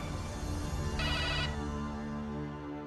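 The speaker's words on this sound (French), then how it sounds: "Ton téléphone n'arrête jamais de sonner." A phone rings with a repeating electronic ringtone melody, steady and moderately loud, with a brighter burst midway and no talk.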